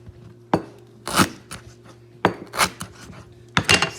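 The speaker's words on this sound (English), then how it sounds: "Another method you can do is you can just chop it up." A knife chops through lemongrass stalks on a board, a few sharp separate cuts spaced irregularly with quiet pauses between, close and fairly faint.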